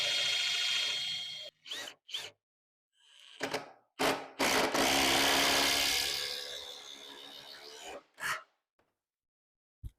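Milwaukee cordless driver sinking a large star-tip construction screw into wood, whirring in several short bursts and then one long sustained drive that slows near the end, close and loud with no talk.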